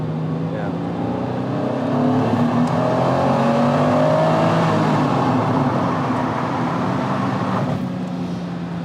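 A Honda NSX-R sports car drives steadily with a continuous engine drone and road roar, the engine note rising slightly midway, heard from inside the car with no talk.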